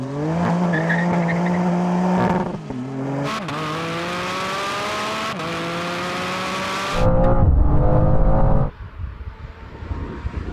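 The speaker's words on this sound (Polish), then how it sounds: "Wyłączyłem trakcję, samochód zaczął się ślizgać, a ja wcisnąłem pedał gazu do dechy." A BMW M2 CS at full throttle with traction control off spins its tires, the engine howling through rising gear pulls with sharp squealing, then a loud burst of wheelspin before the sound drops away.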